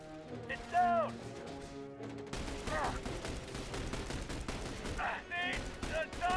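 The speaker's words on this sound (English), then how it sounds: "Enemy fire!" Enemy gunfire from The Bureau: XCOM Declassified, loud rapid volleys of shots over a battle soundscape, briefly preceded by quieter tones and voices before the firing breaks out and continues.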